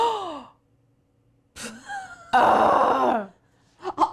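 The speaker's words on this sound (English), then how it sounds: "Audible gasp." A voice gives an audible gasp and drawn-out sighing, moaning exclamations, close and fairly loud, with short pauses between and a quick breathy sound at the end.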